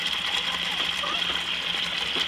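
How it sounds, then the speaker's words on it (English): A salad spinner whirs steadily as it spins water out of blueberry-dyed fabric, a constant bright rushing hiss with faint rattling, close and continuous. "My kids are helping me salad spin the water out of the blueberry one."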